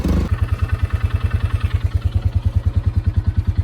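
A four-wheeler pulling a harrow to level freshly disked garden soil, its small engine throbbing in a fast, even putter close by and loud, with a brief louder rev at the start.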